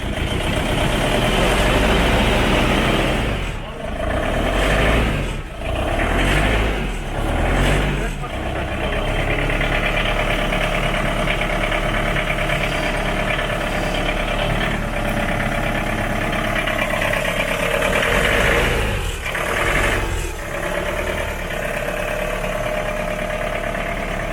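A Hummer engine runs after its first start in years, a loud, close, continuous mechanical roar with a few dips, while people talk over it.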